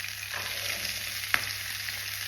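Urad dal, ginger and green chillies fry in a pan with a steady, even hiss of hot oil. One sharp utensil tap cuts through briefly midway.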